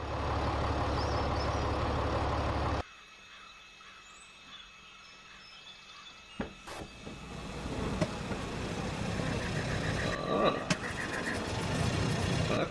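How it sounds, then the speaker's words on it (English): A car engine in The Walking Dead video game sputters and turns over roughly, rising into a rumbling idle after a quiet stretch, with talking over it. "That car sound like crap."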